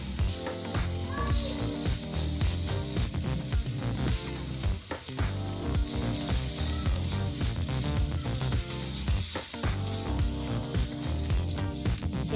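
Chopped garlic fries in a spoonful of oil, giving a loud, steady, close sizzle with crackling and stirring scrapes for the whole stretch and no talking over it.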